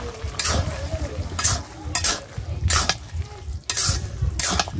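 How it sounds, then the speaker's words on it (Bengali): Cumin paste being stirred into a pumpkin and shrimp curry in a pot, the spoon scraping in about six regular strokes over a soft simmering sizzle, close and moderately loud with no talk. "এই যে জিরা বাটাটা আমি মিশিয়ে নই"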